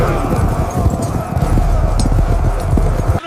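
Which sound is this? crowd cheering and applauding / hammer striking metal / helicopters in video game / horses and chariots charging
horses and chariots charging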